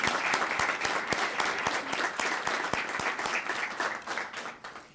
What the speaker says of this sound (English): if we could give all those people, sorry, that was a long stand, a round of applause